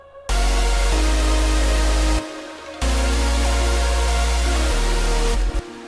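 Melodic dubstep with a big layered synth chord stack: dense, loud sustained chords with heavy sub bass, a brief drop-out near the middle, then the wall of sound returns.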